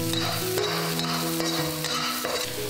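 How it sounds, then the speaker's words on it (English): Garlic and ginger stir-frying in a hot pan, a steady crackling sizzle with spatula stirring strokes recurring about every half second, close and continuous with no talking. "we're gonna start with garlic and ginger. Give it a nice stir for about 30 seconds."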